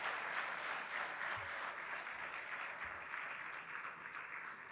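An audience at a financial inclusion survey launch event in Rwanda claps after a presentation, a dense, steady wash of applause from many hands, fairly distant and even, fading slightly toward the end.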